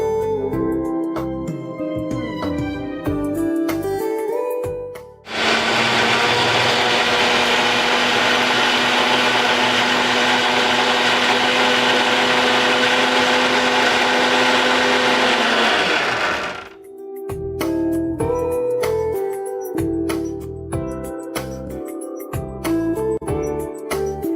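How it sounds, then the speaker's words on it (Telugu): Sprouted jowar with water and ginger churns in a kitchen mixer grinder: a loud, steady motor whir of about eleven seconds, framed by background music before and after. "ఇప్పుడు ఇది మిక్సీ పట్టేసుకోవాలి."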